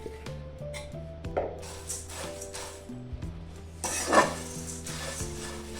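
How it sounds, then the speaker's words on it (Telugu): Puffed rice being dry-roasted in a pan on a stove and stirred, with scraping and clinking of a utensil against the pan and a rustling hiss, loudest near the end. "ఒక ప్యాన్ పెట్టుకొని ఇందులోకి ఈ మరమరాలని వేసి కొద్దిగా వేపుకోవాలి"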